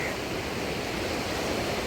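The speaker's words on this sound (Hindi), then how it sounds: "बहाव बहुत तेज़ है, बहुत शोर हो रहा है माँ गंगा का बहाव का" The fast, swollen Ganga at Haridwar rushes after continuous upstream rain, a loud, unbroken broadband roar of churning water that holds steady throughout with no talking.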